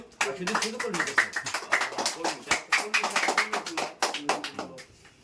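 Audience applause for prize winners being called up at a fun game event, a steady patter of many hands clapping at close range, mixed with cheering voices and talk throughout.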